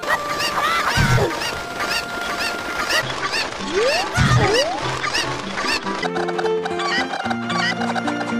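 Cucco chickens in a Legend of Zelda game, bursts of squawking and clucking calls mixed with game music and effects, ending in a stretch of sustained musical tones.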